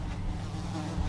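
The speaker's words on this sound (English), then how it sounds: "them bees is probably living in that hay." Bees buzz around big hay bales outdoors, a close steady insect hum that stays continuous for a short moment.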